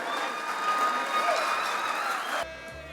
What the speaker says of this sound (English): let's say a round of applause for their contribution to us sheep hunters